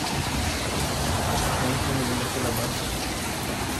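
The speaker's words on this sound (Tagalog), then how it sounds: "Pero ngayon tingnan niyo at umuulan." Steady rain falling at an outdoor stall where t-shirts and sneakers are displayed for sale, a dense continuous hiss of drops with no pauses, loud and close throughout.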